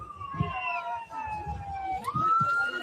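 An emergency siren wails and sweeps in pitch, moderately distant, as an ambulance comes through a tense street protest near Minneapolis, with crowd noise and voices underneath.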